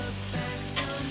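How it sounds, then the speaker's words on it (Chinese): Carrots and king oyster mushrooms stir-fried quickly in an oiled pan, a steady close sizzle with a brief scraping swell of movement partway through. "快速翻炒。"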